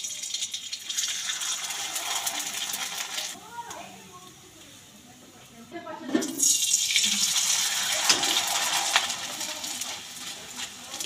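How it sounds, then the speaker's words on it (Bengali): Small cut pieces of sago masala papad deep-frying in hot oil give a steady, bright sizzling hiss that drops away briefly in the middle, then surges back just as strongly. "এবার সাবুর পাঁপড়গুলো ভেজে নেব"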